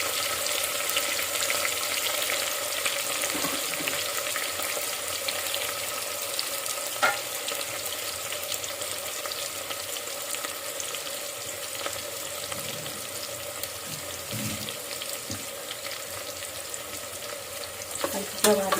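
Onions and green chillies frying in a pan for a Telangana-style mutton curry, a continuous close sizzle with occasional faint spatula scrapes, steady and even, with no talking.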